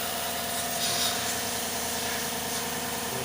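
Newly replaced engine in a 2016 GMC Sierra running at a steady idle, a close, even hum with faint vibration and no speech.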